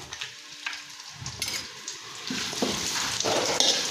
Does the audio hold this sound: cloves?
yes